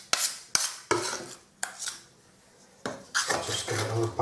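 Metal scrapers load filler into an electrical chase cut in a wall, with a string of sharp scraping clacks and smears, some loud and abrupt, others softer and drawn out, close by and without speech.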